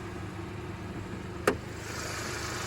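A warmed-up Hyundai Theta 2 engine in a sixth-generation Hyundai Sonata idles with a low, steady hum, broken by one sharp click partway through.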